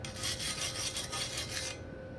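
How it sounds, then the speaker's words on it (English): A wire brush scrubs slag off a fresh weld on a super thick piece of metal, giving a steady close raspy scratching in quick back-and-forth strokes that stops near the end. "And then I'll brush it off a little bit more."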